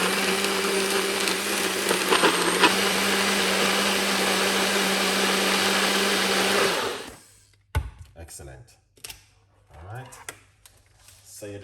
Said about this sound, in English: Raw beetroot I'm using. I just put it into the blender.